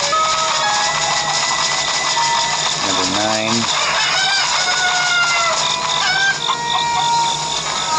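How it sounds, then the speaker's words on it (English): A rooster in the video game Zelda Breath of the Wild lets out one clear crow partway through, rising above a dense, constant bed of game ambience and music. "I thought it was roosters that do that."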